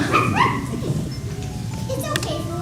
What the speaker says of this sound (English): You mean you can help me to understand my little puppy?